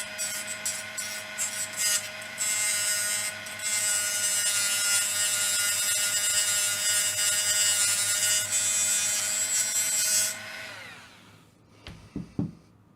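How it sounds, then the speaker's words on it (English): A Dremel rotary tool whines at high speed as it cuts into a power bank circuit board, its pitch dipping under load for about ten seconds, then winding down, followed by a few handling clicks. "Let's find a Dremel."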